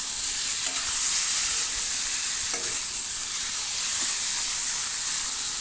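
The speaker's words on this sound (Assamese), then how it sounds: "তাৰপিছতে এতিয়া মাংসখিনি দিম। এইখিনি ভালদৰে মিলাই তাৰপিছতে নিমখ দিম।" Pork sizzling loudly in a hot pan as it is stirred and fried, a steady close hiss with faint scraping underneath and no talk.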